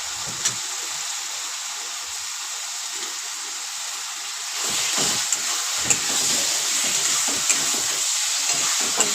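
Already-fried potatoes are stirred into a spice masala in hot oil, a steady close sizzle and hiss that swells louder midway, with occasional scrapes of a spoon against the pan and no talking.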